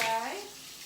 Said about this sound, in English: Now I'll go get my hot water.